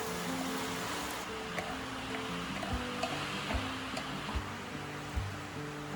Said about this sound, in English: When the oil is hot, add all the tomatoes, onions, and scallions to the pan. Stir constantly to blend the ingredients together.